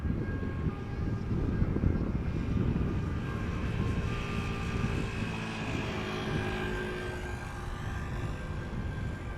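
Steady roar of a Boeing 737-800 airliner arriving at Amsterdam Schiphol Airport, a broad rumbling drone that holds level and slowly shifts in pitch.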